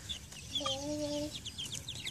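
Seven-week-old chickens in an outdoor play yard cluck and chirp softly, a few short calls and one drawn-out note close by, over faint background ambience.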